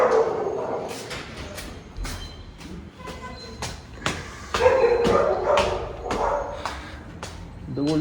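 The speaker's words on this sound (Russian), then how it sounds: "У кого-то собачки лают." Dogs barking in an Argentine apartment building, a run of sharp yips and barks repeating irregularly, moderately close, with a voice talking over part of it.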